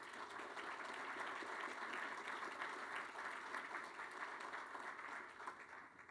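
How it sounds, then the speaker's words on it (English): An audience applauds at a university press conference introducing a new athletics director, a dense, even wash of clapping sustained throughout, moderately distant and fairly quiet. "How about a round of applause for that?"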